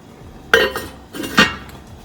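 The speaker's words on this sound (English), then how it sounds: "I'm going to put the lid on it" A lid is set on a pot of boiling Japanese rice soup, giving two sharp metallic clinks close by about a second apart.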